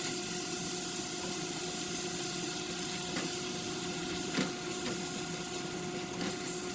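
Ground chuck frying in a pan until no pink is left, a steady close hiss and sizzle with faint scraping taps now and then, continuous and alone.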